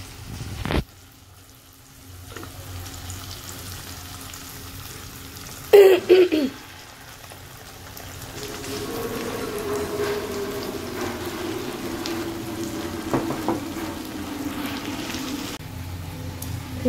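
A blended spice paste tipped into a pan of browned fried onions breaks into a loud, steady sizzle after a brief clatter, then keeps frying evenly up close.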